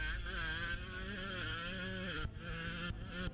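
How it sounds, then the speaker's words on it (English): A 125cc two-stroke enduro motorbike engine at the French final of the 2013 Enduro World Championship, a continuous loud buzzing drone with wavering pitch and a brief dip near the two-second mark. "ride the French finale on a little 125's two-stroke CC bike. Listen to that engine."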